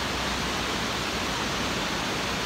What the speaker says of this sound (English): And look at this, guys, the creek.